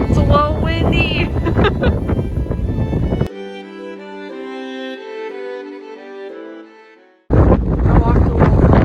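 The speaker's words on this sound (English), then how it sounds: "It's a little windy." Wind buffeting a microphone outdoors in Ireland, a heavy rumbling roar that drops away briefly before surging back, with a person talking over it.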